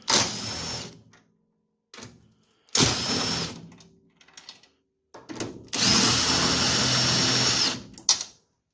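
A power tool works the lower shock bolts on a 1972 Mustang Mach 1 suspension, firing in several short and long bursts of whirring and rattling with silent gaps between, close and loud, with no talking.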